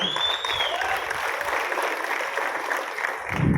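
An audience claps continuously for several seconds, a dense, even patter of applause that swells slightly at the end.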